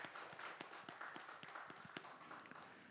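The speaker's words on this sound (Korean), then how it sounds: "우리 하나님 앞에 영광의 박수를 올려드립시다" A church congregation claps during Sunday worship, a faint, distant run of regular hand claps at a steady, brisk rhythm.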